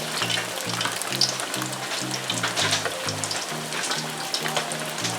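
Loud, crackling sizzle of king mackerel frying in hot oil in a pan for escovitch fish, with constant spattering pops and a low rhythmic thumping underneath, heavy rain outside.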